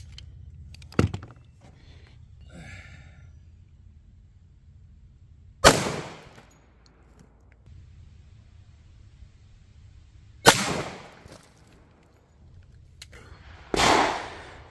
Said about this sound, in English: Our first shot is punch, second shot HST.